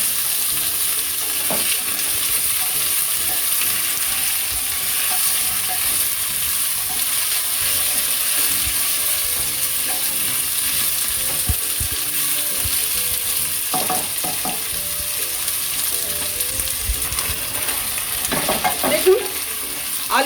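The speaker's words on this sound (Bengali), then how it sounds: "আলুটা একটু লাল করে ভাজবো।" Potatoes frying in a pan for a Bengali jackfruit and prawn dish, a steady, dense sizzle that holds for about twenty seconds, close by, with occasional scrapes and clinks of stirring and no talking.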